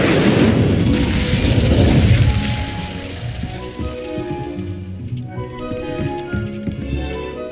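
A fire spell cast in the wizarding game Hogwarts Legacy opens with a loud, roaring whoosh of flame that lasts about two seconds, then gives way to quieter crackling and scattered small impacts.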